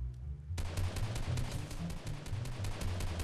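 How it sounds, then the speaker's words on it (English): Rapid automatic gunfire in Fortnite Mobile, a dense run of sharp shots firing almost without pause after a brief quiet start, loud and close. "I'm just getting some free third-party shots in here"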